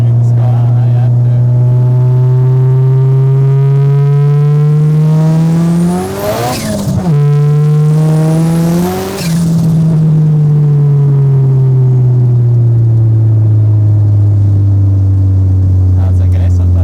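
A turbocharged VW Golf Mk1 accelerates hard from inside the cabin, its engine note rising steeply through two quick gear changes with brief drops between, then holding a loud strained roar; a voice speaks faintly over it.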